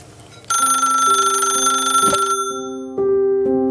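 Old telephone bell rings loud and close in two bursts: a bright metallic jangle that cuts off, then resumes after a short pause with no voices.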